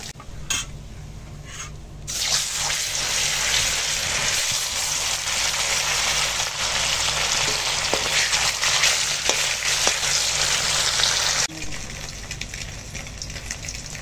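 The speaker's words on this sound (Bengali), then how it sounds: "এবার বাকি মাছগুলো ভেজে নেব।" More fish is lowered into hot oil over a wood fire, and a loud sizzle bursts up and keeps hissing steadily for about nine seconds before it abruptly drops to a quieter background.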